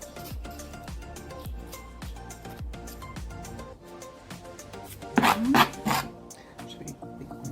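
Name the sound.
cutting onions into small pieces with a knife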